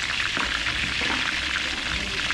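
Water pours into a cooking pot for beef caldereta, a steady hissing splash that runs without a break for a couple of seconds.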